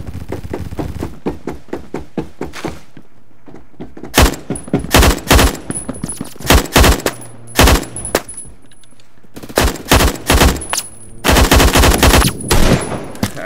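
A light machine gun fires in Phantom Forces in loud, close bursts of rapid shots, with brief gaps between bursts and a long sustained burst near the end.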